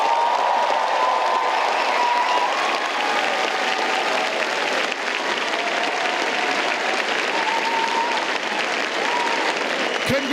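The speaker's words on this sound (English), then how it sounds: "you get a giant round of applause now" A large graduation audience applauds the last Faculty of Engineering graduate, a dense, sustained wash of clapping filling a hall for ten seconds with faint scattered voices underneath.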